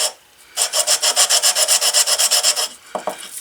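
A hardwood cobbler hammer handle is rubbed back and forth on 220 grit sandpaper in about twenty quick, even rasping strokes, close and clear with no other sound, followed by two soft knocks.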